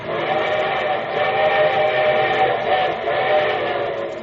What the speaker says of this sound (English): And here comes the summer show train.